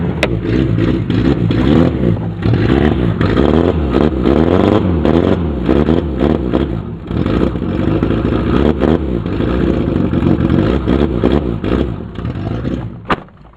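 A Volkswagen Polo car engine turns over, catches and keeps running nearby, a loud rough idle with uneven revving and clattering throughout.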